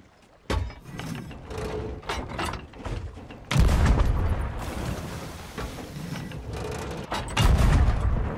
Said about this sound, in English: These cannons can work, I have to say.